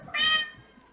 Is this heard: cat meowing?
yes